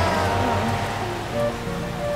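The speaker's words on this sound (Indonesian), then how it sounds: "Ya ampun, bahkan sekarang hujan." Steady rain falls in an animated cartoon, a dense, even hiss of drops with a soft tonal background underneath, moderately loud and continuous without talking.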